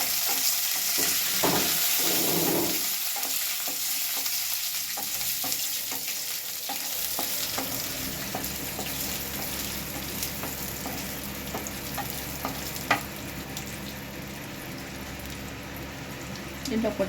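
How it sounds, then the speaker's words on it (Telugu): Pumpkin seeds frying and being stirred in a pan with ghee for bottle gourd halwa; steady sizzle throughout with scraping stirs, close and fairly loud, no talk. "కొంచెం కలర్ చేంజ్ అయిన వరకు ఫ్రై చేయాలి"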